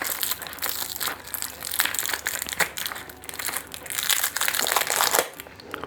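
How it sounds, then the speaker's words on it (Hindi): Plastic candy wrappers on chocolate-filled toffees crinkle and crackle as they are torn open by hand, a busy, close, continuous rustle lasting several seconds, with no talking over it. "तो अब हम कैंडीज़ ओपन करेंगे सारी।"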